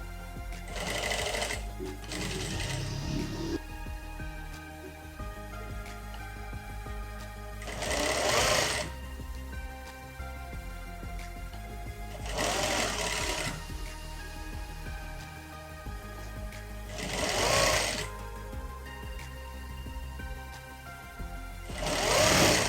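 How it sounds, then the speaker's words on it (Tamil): A sewing machine stitches the sleeve of a skirt blouse in repeated short runs, several bursts of fast mechanical whirring separated by quieter pauses, close and clear with no talk. "அதே போல் இன்னொரு கையும் தச்சிடலாம்."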